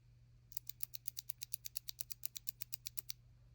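A clicky green mechanical keyboard switch is pressed repeatedly in a fast, even rhythm, about twenty crisp, close clicks over three seconds against a faint steady hum.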